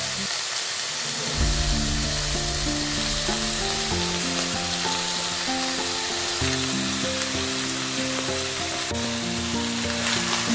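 Potatoes being sautéed with chopped fenugreek leaves, a constant broad sizzle running under steady low tonal sounds, close and continuous with no talking.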